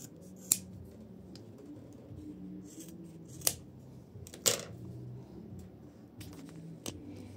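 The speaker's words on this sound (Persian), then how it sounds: "اضافهش رو میتونیم قیچی کنیم." Scissors snip through excess fabric while a laundry basket lid is being sewn, a few crisp, quiet cuts spaced several seconds apart over faint background noise.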